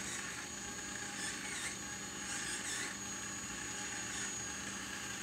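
A power drill spins a gold leaf pinstriping tool, giving a steady whirring hum with a bright high whine that holds constant under light pressure, close and continuous with no talking.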